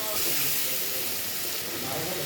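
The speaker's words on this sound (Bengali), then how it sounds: "এখন আমি তেলের ভিতরে মাছটা দিয়ে দেবো" Fish dropped into hot oil in a home kitchen sends up a steady broadband sizzle and hiss that stays loud and even for the whole moment, with no speech over it.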